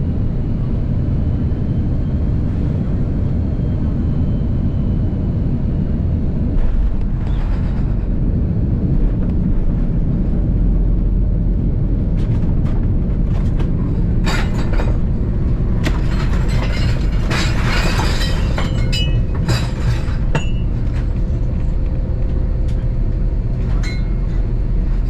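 Inside the cabin of a Delta Airlines Airbus A330-300 descending and landing at a Paris airport: a steady, loud low rumble of engines and airflow, with scattered clunks and rattles in the second half as the aircraft touches down.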